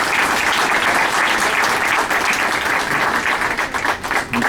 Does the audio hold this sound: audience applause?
yes